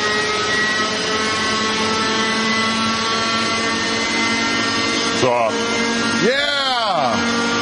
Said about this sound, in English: soon returns with his own model chopper. Chris, hover that puppy as you will